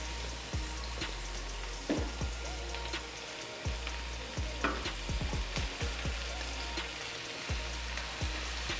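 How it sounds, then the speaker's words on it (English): Shrimp and king prawns fry in butter and oil in a pan, giving a steady close sizzle with scattered pops and a few clacks of a utensil against the pan, and no talking. "So right now I'll be throwing in our shrimps."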